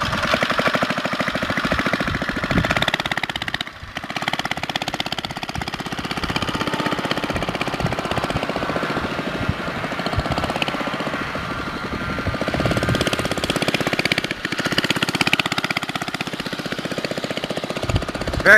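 A 2 hp Briggs & Stratton engine in a Baja dirt bug runs loud and close, a continuous rough, rattling drone that holds steady throughout.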